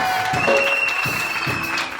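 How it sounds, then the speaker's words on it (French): Applause for the pastor during a church service, a dense wash of clapping with some crowd noise and a sustained tone running through it, moderately loud and continuous. "Est-ce qu'on peut applaudir encore?"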